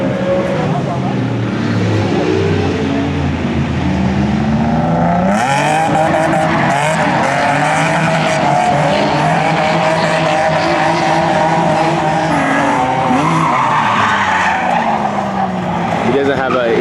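A Nissan 350Z drifts with clutch kicks, its engine roaring loudly and close while the tires squeal almost continuously. The sound surges sharply partway through, with voices underneath.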